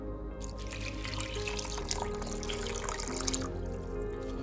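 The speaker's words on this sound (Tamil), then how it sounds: "இப்போ வந்து இதில் தண்ணி ஊற்றிடலாம்." Water poured into washed pearl millet set to soak, a steady continuous splashing and trickling that runs close and fairly loud through the whole stretch with no talk.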